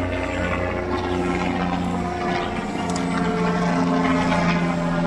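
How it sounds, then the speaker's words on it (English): A helicopter flies overhead during an evening walk, a steady droning rotor and engine sound that holds at a fairly even loudness throughout, with no talking. "Is that a helicopter?"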